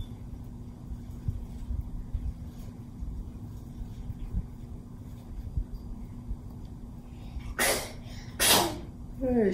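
A man sneezes twice near the end, two sharp bursts about a second apart, close and loud, after a stretch of low room hum during resin crafting at a kitchen table.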